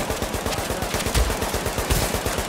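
Automated turret gunfire in the video game The Division, a loud, steady rapid-fire stream of close shots repeating at an even rhythm with no pauses.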